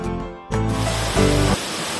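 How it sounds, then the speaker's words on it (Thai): The Wa River flows past Sapan village in Nan province, Thailand, as a steady, close, broadband rush of water with a brief surge in the middle and no voices. "เป็นจุดเช็คอินที่มาผ่อนคลายกับเสียงน้ำในลำน้ำว้า"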